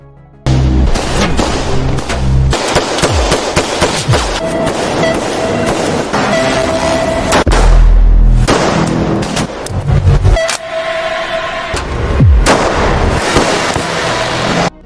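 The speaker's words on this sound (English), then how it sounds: "ordered his men to attack Will until a shootout occurred" Gunfire in a shootout, with loud, sharp shots and booms. They fire in rapid, irregular bursts over a dense, continuous rumble of action noise.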